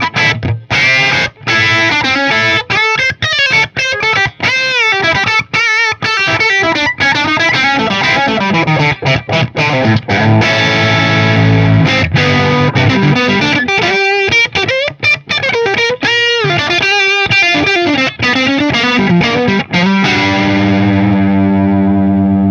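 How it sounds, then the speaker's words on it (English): An electric guitar plays through a Mesa/Boogie Mark V tube amp in 10-watt mode with power tube overdrive, thick crunchy chords and single notes ringing loudly with brief pauses between phrases. "you can really get some power tube overdrive, and this really adds some edge and bite"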